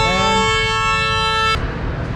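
A loud vehicle horn blares from behind on a road trip from Delhi to Manali, a steady multi-tone honk lasting over a second before cutting off into road noise.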